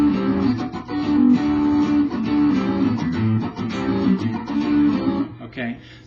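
Electric guitar plays the main riff of a song, a rhythmic, choppy funk-rock figure repeated steadily and loudly for about six seconds with no talking.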